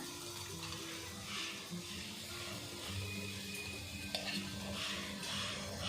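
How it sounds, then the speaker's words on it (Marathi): Battered pakoras (bhaji) frying in hot oil in a home kitchen, a soft continuous sizzle with light stirring and clinks, fairly quiet with no voices. "हे बघा आपलं तेल गरम झालेलं आहे, भजी सोडते इथं।"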